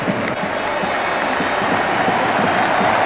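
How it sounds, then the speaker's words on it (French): A stadium crowd at a football match gives a sustained ovation, dense applause and cheering rolling on steadily and loudly throughout with no break. "Entendez l'ovation, elle fait chaud au cœur évidemment."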